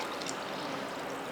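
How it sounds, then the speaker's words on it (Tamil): Water pours steadily into a cooking pot holding goat intestines with small onions and curry leaves, a continuous splashing rush that lasts the whole moment. "இது கூட கொஞ்சம் கருவேப்பிலை சேர்த்துட்டு இப்போ தண்ணி சேர்த்துடலாம்"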